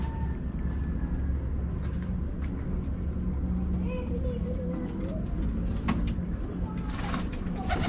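Pigeons coo in a low, steady, repeating murmur, a dense outdoor flock sound with faint chirps and crickets behind it and no clear pauses.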